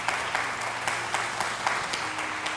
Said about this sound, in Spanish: No sé si usted lo quiere aplaudir a Él en esta hora y darle a Él toda la